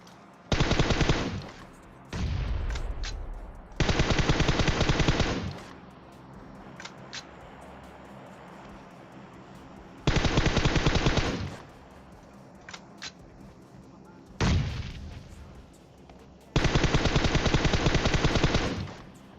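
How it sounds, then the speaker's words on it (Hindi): Loud bursts of rapid automatic gunfire from a video game, several long volleys separated by quieter gaps with a few single shots. "वो लोग बहुत जोर से गोलियां चलाते हैं"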